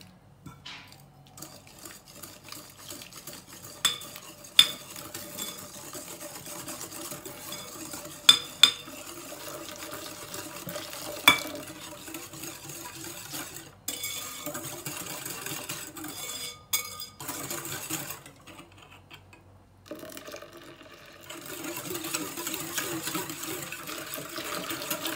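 Whisk stirring milk into a caramel flan mixture in a bowl, soft continuous swishing with occasional sharp clinks against the bowl, close and quiet, with no talk.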